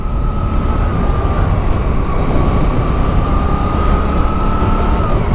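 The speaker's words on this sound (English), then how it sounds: "a lovely sound coming out of that parallel twin engine" A 2023 Suzuki GSX-8S parallel-twin motorcycle being ridden, giving a steady, loud, close engine drone with a faint humming tone, heavy rushing noise underneath and no voices.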